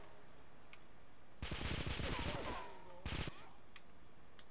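Gunfire from GTA 3 Definitive Edition played on Nintendo Switch comes as a loud burst of rapid automatic shots lasting over a second, then a shorter second burst, over quiet game ambience.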